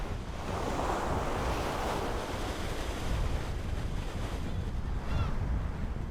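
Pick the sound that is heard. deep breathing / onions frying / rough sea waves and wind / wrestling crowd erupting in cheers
rough sea waves and wind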